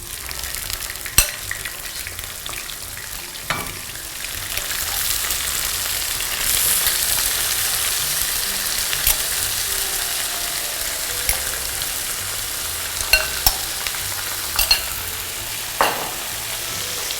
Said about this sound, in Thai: กระเทียมเริ่มเหลืองแล้วนะคะเราจะใส่ตับลงไปผัดเลยนะคะ